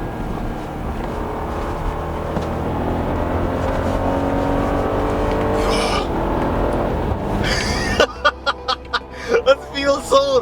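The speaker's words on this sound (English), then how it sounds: "Let's try this corner, let's do a low enter speed and see what's what." An Audi Q8 SUV coupe with 250 kW is driven hard through a corner. A steady engine drone and road roar build under the cabin noise, then give way to short, choppy bursts near the end.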